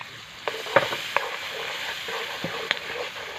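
Garlic with green and red chilies frying in melted butter, a steady soft sizzle with a few sharp clicks and scrapes of stirring, no voices.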